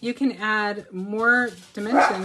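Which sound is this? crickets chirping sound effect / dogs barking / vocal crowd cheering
dogs barking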